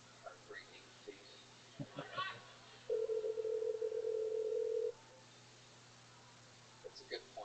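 A telephone call rings out unanswered: a steady ringback tone sounds for about two seconds, faint and mid-pitched, between short muffled voices and background noise.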